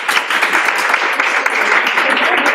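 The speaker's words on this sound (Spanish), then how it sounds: "podéis aplaudir" A crowd claps steadily in dense, sustained applause, loud and close, with no break for its short duration.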